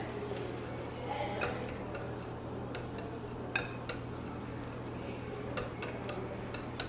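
Lightly beaten eggs mixed into a bowl of ingredients for a keto bacon cheeseburger pie make quick, irregular clicking taps as the utensil strikes the bowl, quiet and close over a low steady hum.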